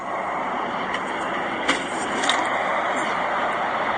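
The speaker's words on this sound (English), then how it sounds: "Oh yeah, no, that's pure wind." Wind roars against a closed, latched window high up in a building, a dense, steady rushing noise that fills the room with faint swells and no clear pauses.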